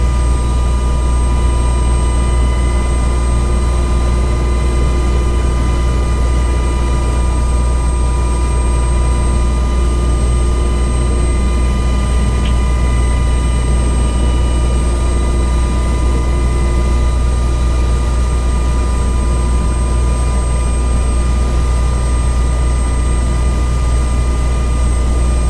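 UH-60 helicopter in the FSX flight simulator at takeoff, a loud, steady turbine whine over a deep rotor rumble, continuous and unchanging.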